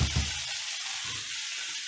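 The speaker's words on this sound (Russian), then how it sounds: "обжарить овощи сейчас прям на большом огне, поэтому немножечко звук страдает." Vegetables frying over high heat give off a steady broadband sizzle, with a few low clatters of stirring near the start and no talking.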